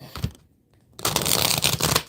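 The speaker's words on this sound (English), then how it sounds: "We're going to do one more shuffle, and then we're going to deal these cards out" Tarot cards shuffled by hand in two bursts, a brief riffle, then a pause, then a sustained loud flurry of crisp card-on-card flapping and rustling, close up.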